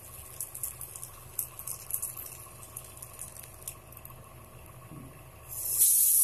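Paneer tikka sizzles in a pan of butter and oil with a constant soft hiss and faint crackle, close by. Near the end a louder burst of sizzling joins in, and nobody speaks.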